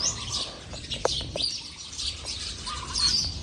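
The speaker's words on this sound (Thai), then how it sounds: "มันเช้ามืดอยู่นะตอนนี้เสียงนกก็สิ" Several birds chirp and tweet in short, bright calls at dawn in a vegetable garden, some near and some farther off, over a low steady outdoor hum.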